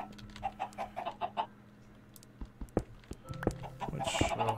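Minecraft chickens give a run of short, evenly spaced clucks, then sparse clicks and thuds of blocks and a louder burst of mechanism noise near the end.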